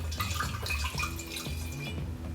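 Sanitized water splashes and gurgles as it is poured into a gallon jug during home brewing, a close, steady liquid pour with bubbling throughout.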